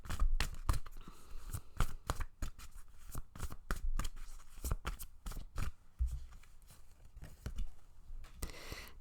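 Tarot cards being shuffled and drawn by hand, a rapid run of crisp riffling slaps and flicks that repeat across the whole stretch, close and fairly loud, with no talking.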